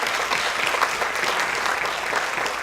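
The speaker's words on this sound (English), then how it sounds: "A round of applause for her as well." Audience at a charity gala for a police K-9 unit applauds steadily, a dense, even wash of clapping from many hands throughout.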